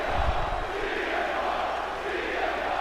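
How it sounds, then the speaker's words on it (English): An arena crowd in the video game WWE 2K25 chants for CM Punk, a dense, steady roar of massed voices filling the whole stretch at even loudness, without clear individual words. "The crowd has chanted his name for so many years."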